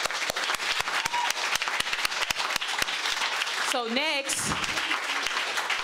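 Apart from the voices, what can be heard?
audience applause for the panel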